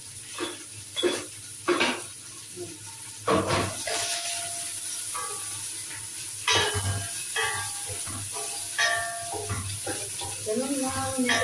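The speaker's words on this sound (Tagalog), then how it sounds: "Igisa-gisa lang." Onions sautéing in a hot pan at home give a steady sizzle and hiss, with occasional stirring clinks and scrapes of a utensil, while someone talks intermittently over the frying.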